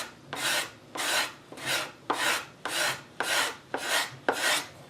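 Hide glue being scraped off a wooden serpentine chest, eight even rasping strokes in a steady rhythm, close and crisp with brief pauses between pulls.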